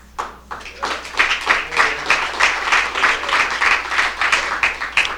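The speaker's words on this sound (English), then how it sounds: "I am so glad you applauded for that" Enthusiastic audience clapping at an awards ceremony for a peace organization, a sustained, fairly loud burst of applause filling the room, with no speech over it.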